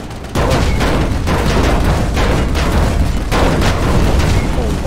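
Artillery fire in the video game Planetside 2: a dense, loud barrage of booming blasts and crackling bursts rolling almost continuously, with heavier surges every second or so.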